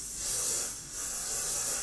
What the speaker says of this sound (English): first I'll spray down the entire body of the carburetor, both the outside areas and the inside